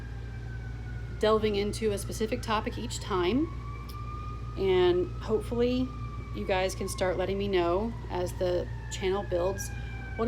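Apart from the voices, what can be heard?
passing emergency vehicle siren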